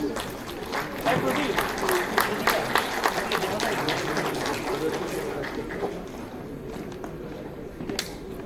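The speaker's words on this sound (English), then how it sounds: "A great round of applause for this moment" Audience at an alumni meet inauguration clapping steadily for several seconds with a dense, lively patter that gradually thins out, while a person talks over it.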